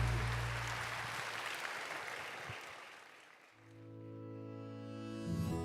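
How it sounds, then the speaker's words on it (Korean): A church congregation at a Sunday worship service applauds loudly for about three seconds, the broad clapping fading out as sustained organ or keyboard chords take over. "다시 한번 크게 박수해 주시기 바랍니다."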